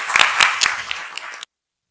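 Audience applause welcomes the first speakers at an Oxford college event, a short burst of distinct claps fading out before cutting to silence.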